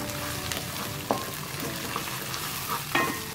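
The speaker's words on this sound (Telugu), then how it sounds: "జింజర్ గార్లిక్ పేస్ట్ ని కూడా 1 నిమిషం పాటు ఫ్రై చేసుకుందాము" Ginger garlic paste sizzles steadily in hot oil in a pan, a continuous hiss with a couple of brief clinks and scrapes of stirring standing out.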